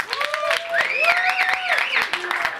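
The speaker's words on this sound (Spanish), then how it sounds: "Ahora quiero un fuerte aplauso para BCJ." Spectators applaud a team at a third-place league match, with clapping mixed with shrill whistles and cheering voices. The sound is loud, close and busy throughout.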